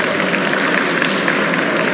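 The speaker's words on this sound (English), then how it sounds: "Let's give a round of applause for Shanti Nara" Shanti Nara, Deputy Director, is welcomed with a round of applause at a community alliance launch in a banquet hall in Edison, NJ, a steady wash of crowd clapping.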